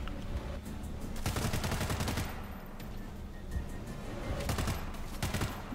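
Rapid gunfire in World War Z, aimed at petrol cans, with repeated bursts of sharp shots in quick succession and a short lull in the middle before another volley.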